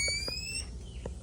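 A 1975 Kohler Highline toilet squeals while its tank refills, a thin high-pitched whine that fades after about half a second over a low watery hiss, with a few soft knocks close by.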